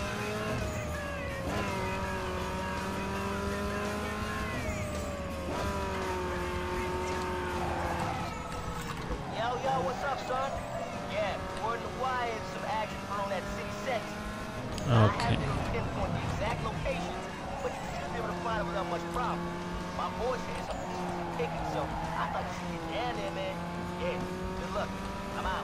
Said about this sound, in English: But first I'm gonna do a donut because I spun and I wanted to make it look elegant